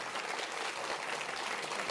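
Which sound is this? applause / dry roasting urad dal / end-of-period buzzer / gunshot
applause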